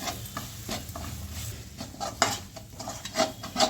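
Gram flour roasts with spices in a pan, a spoon stirring and scraping steadily over a low, continuous sizzle. The strokes repeat at close range and moderate volume, with no voices.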